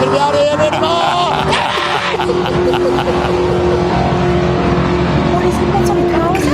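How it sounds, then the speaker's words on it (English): A loud, noisy car roars past at a festival on Skid Row, engine droning steadily near and heavy throughout, with crowd and voices mixed beneath. "What sort of car is it? Oh, it's not a Datsun? It's a noisy one."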